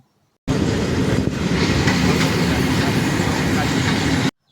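A train rumbles past close by at a railway level crossing, a steady, loud broadband roar that starts abruptly and holds for several seconds before cutting off.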